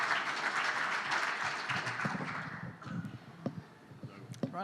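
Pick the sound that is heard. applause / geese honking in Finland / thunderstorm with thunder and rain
applause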